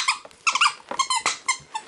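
A husky chews on a squeaky dog toy from a birthday box, producing a rapid series of sharp, close, loud squeaks in irregular bursts with brief pauses between them, and no talking.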